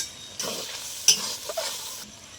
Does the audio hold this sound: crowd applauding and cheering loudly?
no